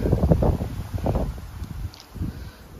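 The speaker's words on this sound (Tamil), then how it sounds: "காற்று நல்லா அடிக்குது, சுமாரானாலும் இல்லை, ரொம்ப நல்லா அடிக்குது காற்று" Strong wind buffets the microphone with low, rumbling gusts that rise and fall throughout, with a faint rustle in the background, on Rengamalai hill during a trek.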